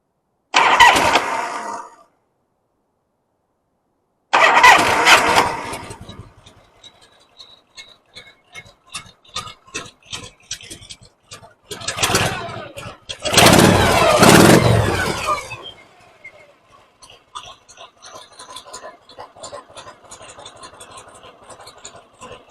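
A 1983 Harley-Davidson Shovelhead motorcycle cranks in short bursts, pauses, then fires and settles into a loping, uneven idle with occasional blips of throttle, close and fairly loud.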